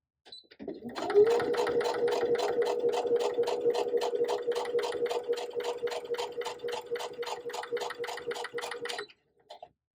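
Home sewing machine stitching pieced quilt blocks, a steady rapid mechanical needle rhythm running for about eight seconds before stopping, close and moderately loud with no talk.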